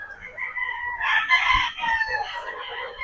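Several young gamefowl roosters of mixed Sweater and Boston breeds, about four months old, crow in overlapping calls at a game farm, close and fairly loud, with a few clucks beneath and no talking.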